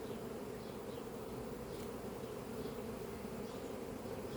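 Honey bees hum around hive frames in a newly settled swarm, a steady, dense drone that holds at an even, soft level throughout with no voices.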